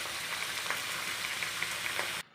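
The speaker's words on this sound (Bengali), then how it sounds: "একটু নাড়াচাড়া করে ভালো করে নুনটাকে মিশিয়ে দেবো" Beetroot, cauliflower, cabbage, pumpkin, peas, potato and beans sprinkled with salt sizzle in a hot pan, a steady hissing fry with light stirring that cuts off abruptly at the end.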